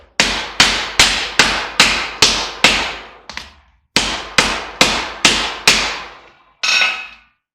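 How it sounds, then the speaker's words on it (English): A hammer delivers about a dozen sharp, muffled strikes on a rag-covered circuit breaker in a steady rhythm, each with a quick decaying ring, followed by a pause and one final heavier blow. "We're going to hit it with a hammer."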